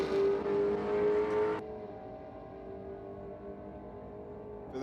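A Ford Mustang drag car roars in a distant, strained rev at the track, then cuts off abruptly, leaving a faint lingering hum.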